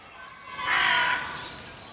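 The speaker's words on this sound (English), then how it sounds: "the beautiful chirping birds are getting taken over by the cawing crows" Crows cawing on a walk through a residential area between Setagaya and Suginami in Japan, a single harsh caw rising briefly above quiet outdoor background, fairly distant.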